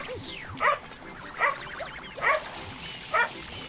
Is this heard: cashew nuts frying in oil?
no